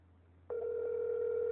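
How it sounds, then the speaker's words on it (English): A call placed to 911 on a phone, with a steady ringback tone starting after a brief pause and holding continuously, fairly loud and alone with no talk. "I'm calling 911. Look how many rings it takes."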